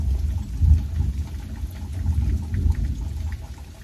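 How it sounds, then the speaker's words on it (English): Deep, low rumble of thunder rolling steadily through the clip, swelling early and again later, with faint rain patter in the background. "I don't know if you heard that thunder."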